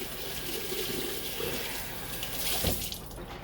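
Tap water runs steadily into a sink to wet a washcloth, a continuous close splashing hiss that swells briefly near the end, with no talking.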